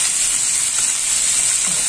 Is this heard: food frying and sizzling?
yes